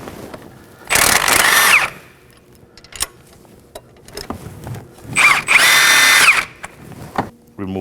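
Power tool with a 19mm socket removing a bolt during a front camber kit replacement on a 2016-2020 Kia Sorento, heard as two loud close whirring bursts with ratchety mechanical clicks in between.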